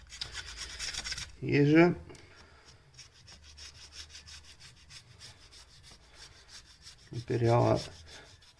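A flat blade scrapes old gasket residue off the top of a Nissan Patrol RD28T diesel engine block in two rough, close bursts separated by a quieter stretch, with brief talking in between.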